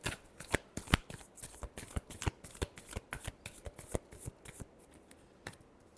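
Tarot cards being shuffled by hand nearby, a quick series of crisp riffling slaps and flicks in an uneven rhythm that thins out toward the end, with no talk.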